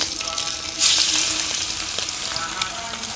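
Chicken liver sizzles and fries in a kadai with a little salt and turmeric, a loud steady crackle that jumps up sharply about a second in, with occasional stirring clatter and no voices.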